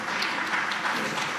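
Steady applause from an audience at a Chandigarh Literary Society talk with Anupam Kher, a dense, even wash of clapping that holds at constant loudness throughout without voices.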